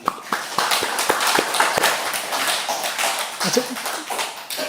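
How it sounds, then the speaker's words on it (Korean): A church congregation at a Sunday worship service claps in thanks, a loose scattering of many hands producing irregular, overlapping claps that blend into a moderate, roomy applause. "이런 일을 행하실 하나님께 감사의 박수를 드립시다"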